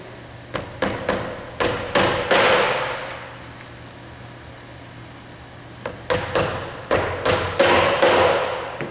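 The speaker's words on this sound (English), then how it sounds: "I've already secured the belt with 2 of the nails, but we need 2 more. I'll go ahead and put those in." Nails hammered into a belt to fix it to a board inside a template, heard as short, sharp metallic hammer strikes in two bursts of several blows each, separated by a quiet pause, close and loud with no talking.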